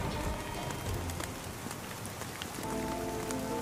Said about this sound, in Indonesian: suara petir yang begitu menggelegar, disertai turun hujan deras